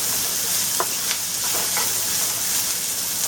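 Chopped ginger sizzles steadily in a hot pan, a continuous bright frying hiss with a few soft stirring clicks, close and moderately loud with no voices.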